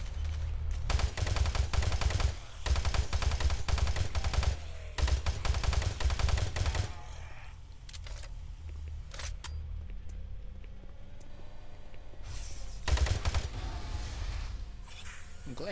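Bursts of rapid gunfire from Doom 3, loud sustained volleys broken by short pauses, with quieter ambient game sound and a voice talking between the shots.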